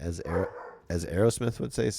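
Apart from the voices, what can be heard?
dog barking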